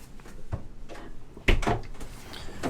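A cabinet door on a 2020 Lagoon 450 Sport catamaran opens with a soft click and a brief knock partway through, close by in a quiet interior.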